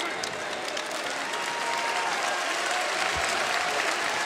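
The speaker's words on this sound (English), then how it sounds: "Nice round of applause for James Daniel, who goes out with 14 points." A basketball arena crowd at a North Carolina vs Tennessee NCAA game applauds a departing player in a dense, steady roar of clapping that holds level throughout, with a commentator's voice faintly underneath.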